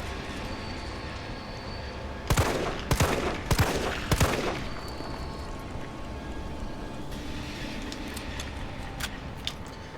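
Four loud gunshots ring out in quick succession in the Resident Evil 3 survival horror game, each sharp crack trailing into a brief echo, followed by a quieter ambient stretch with faint distant clicks.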